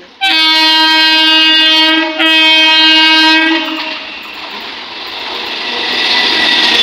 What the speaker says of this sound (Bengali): ওই এসে গেছে ট্রেন।